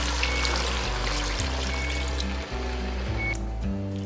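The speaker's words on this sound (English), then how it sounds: "And then we can add some water." Water pours steadily into a pot in a continuous stream with a low, full gurgle, running unbroken throughout and fairly close.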